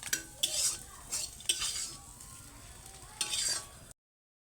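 Potatoes fry in hot oil in a kadai, with bursts of sizzle and metal spoon clatter against the pan over about four seconds, close up and without speech.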